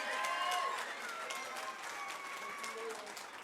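A crowd at a junior combat fight at UKFC 39 claps and cheers in a steady, dense roar, with a few whistles and shouts rising above it.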